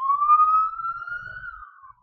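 Police car siren heard as a single long rising and slowly falling wail, clear and fairly loud, fading out at the end, with faint low rumble beneath and no talking.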